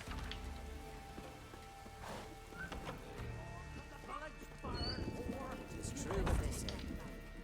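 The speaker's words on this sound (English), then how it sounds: "A horse." A horse's hooves clip-clop in The Witcher 3: Wild Hunt amid rain-like ambient game sound, fairly quiet and irregular, with voices talking over it.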